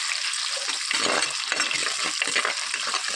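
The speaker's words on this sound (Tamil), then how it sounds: "எல்லாத்தையும் நல்லா வதக்கிக்கணும்" Shallots, garlic and vadagam seasoning sizzle and are stirred in a clay pot, a steady frying hiss with scraping stirs running throughout.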